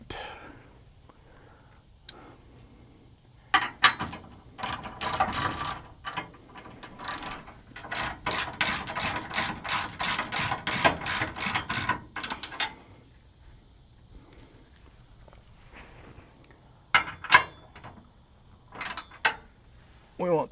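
A socket ratchet tightens a bolt in a series of quick, sharp clicking bursts, close by, with pauses between runs and a couple of short clicks near the end.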